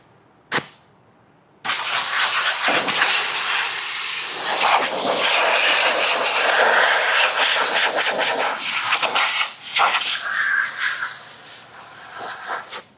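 A compressed air gun blasts parts clean in a garage where an RV is being readied for the road, first one short puff and then a loud, steady, continuous hiss that wavers near the end.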